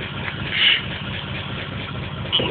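A car engine idles with a misfire, a steady low rumble with uneven pulsing and a couple of brief louder bumps.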